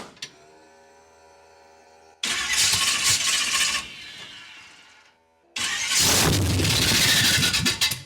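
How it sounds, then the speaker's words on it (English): A 500 hp Chevy V8 swapped into a Honda CRX cranks and fires in loud roaring bursts, cutting out briefly between two runs, close to the microphone with no talking. "throw it in gear and see if we still have that chatter or not"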